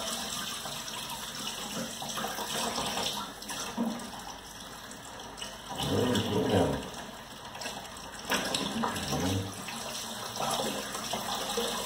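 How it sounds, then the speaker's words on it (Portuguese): Tap water running steadily into a sink while catfish is washed, a continuous splashing rush that swells louder in the middle as the flow hits the fish, no talk. "Agora o seu esquema aqui é lavar com água bem corrente"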